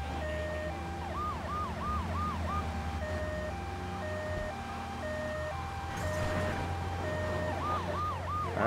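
An ambulance siren in the PC version of GTA 3 Definitive Edition wails in a repeating two-tone pattern with bursts of quick yelp warbles, over a constant low engine drone and game sound effects.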